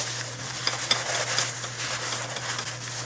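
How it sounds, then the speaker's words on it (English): A towel rubs old grease off the rear axle of a Nissan D21 Hardbody pickup, giving a steady close scrubbing hiss with small clicks and a constant low hum beneath, without speech. "Next step is to wipe all the old grease with a towel."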